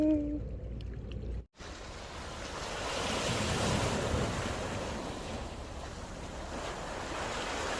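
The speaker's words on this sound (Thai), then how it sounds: "นี่คือผลของเรือใหญ่ผ่านไปนะคะ" Waves from a large passing boat's wake wash onto the shore, a steady rushing surf that swells and holds loud after a brief gap, with wind buffeting the microphone.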